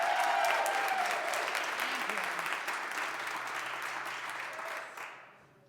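Round of applause from a comedy club audience, loud, dense clapping that gradually thins and fades out, with a brief spoken thanks over it.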